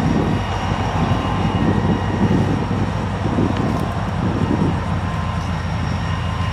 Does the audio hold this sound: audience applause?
no